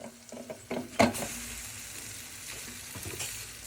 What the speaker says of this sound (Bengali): আমি ম্যাগি রান্না করতেছি